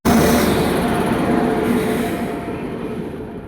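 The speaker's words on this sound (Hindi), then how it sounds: "एक ट्रेन चली गई थी, फिर भी फाटक ओपन नहीं हुआ था, क्योंकि दूसरी एक और ट्रेन आई" A train rolls steadily past a railway level crossing with the gate shut, a loud, continuous rumble of wagons that fades slightly toward the end, with no voices.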